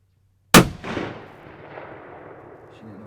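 A single loud, sharp rifle shot during an outdoor deer hunt, close by, followed by a rolling echo that fades slowly into a quiet field.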